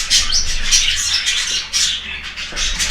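Shrill, rapid squawking and chattering from a young budgerigar, continuous and close, with harsh bursts repeating throughout.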